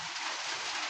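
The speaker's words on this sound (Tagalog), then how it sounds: "pasensya na kayo sa ingay ng paligid dahil umuulan dito sa" Steady, even hiss of rain falling outside a home kitchen, a dense continuous wash with no distinct drops or pauses, moderately quiet and heard alone without voices.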